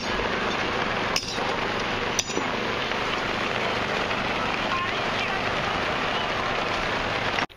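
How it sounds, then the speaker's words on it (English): Heavy rain pours steadily outdoors as a hard, continuous hiss with a couple of brief knocks near the start, loud and close throughout before cutting off at the end. "Mother Nature's got us. A rain event."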